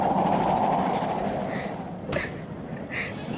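Inside a train pulling out of a station: a low, steady rumble of the carriage with a few soft, high hisses or squeals drifting in over it.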